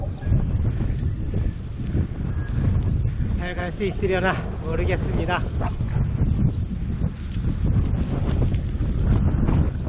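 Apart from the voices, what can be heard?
strong wind blowing during a mountain bike ride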